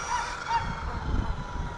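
Geese honk faintly in the distance a couple of times over a low, rumbling outdoor background.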